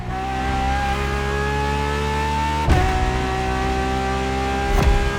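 Ferrari LaFerrari hybrid supercar engine in The Crew Motorfest, revving with a steady high tone that dips and climbs, then jolts twice as if shifting gears, loud and alone.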